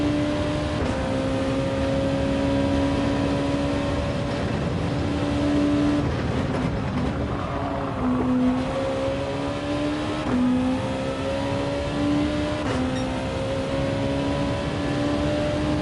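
A Gr.2 race car engine in Gran Turismo 7, droning steadily at high revs with pitch shifts and brief dips at gear changes and corners, loud and constant through the lap with no talking.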